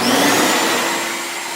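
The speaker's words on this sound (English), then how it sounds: "when I cut it on, it's going to start to suck the heat out, and it's going to suck the seam tape flat up into the backing" A SeamerDownNow carpet seaming machine runs with its suction on, drawing hot adhesive and seam tape up into the carpet backing. It gives a steady, loud vacuum-like whine and rush that eases slightly toward the end, with no talk.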